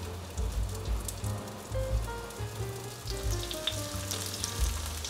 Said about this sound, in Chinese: 锅内倒入多一点的油，用半煎炸的方式，油微微的热就可以放进来了